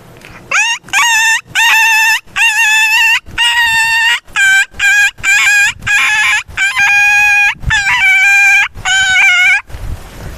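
A voice imitates a puppy's yelps: a rapid series of about a dozen high, whining cries, loud and close, with short gaps between them.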